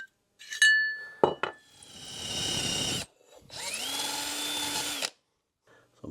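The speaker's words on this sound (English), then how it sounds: "I'm going to go ahead and just drill out the cylinder, so I can put bolts in or put studs back in." A power drill bores out the cylinder of an aftermarket engine from a 2004 Suzuki RM-Z250 motorcycle, in two close, loud whining runs of about two seconds each, with metallic clinks of tools and parts before them.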